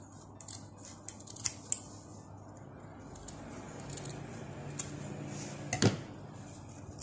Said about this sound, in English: I'm going to cut both of them diagonally up to the 2 inches mark